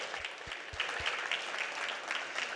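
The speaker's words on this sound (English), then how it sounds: "Ladies and gentlemen, please give my panelists a huge," An audience applauds panelists at a precision-health collaboration session: dense, sustained clapping from a crowd at steady loudness throughout, with no talk over it.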